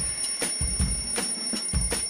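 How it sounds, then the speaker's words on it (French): An alarm clock rings with a steady high metallic tone and repeated rhythmic clattering bursts, loud and close, with no talking. "Le réveil sonne."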